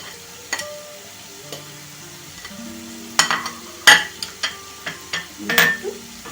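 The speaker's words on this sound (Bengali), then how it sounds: "একটু নাড়তে থাকো। এইবার তেলটা বেশ ভালোভাবে ছেড়ে গেছে।" A spoon stirs paneer masala frying in oil in a pan, giving a soft steady sizzle under a series of sharp scraping clinks that grow louder and more frequent toward the end.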